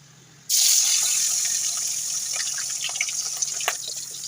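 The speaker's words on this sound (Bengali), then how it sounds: "এদিকে তেল গরম হয়ে গেছে ওটা গ্যাসটা কমিয়ে আমি মাছটা দিয়ে দেবো" Fish seasoned with salt and turmeric hits hot oil in a pan over a lowered gas flame, a sudden loud hiss that starts abruptly and keeps up as a steady, dense sizzle with faint crackles, no talking.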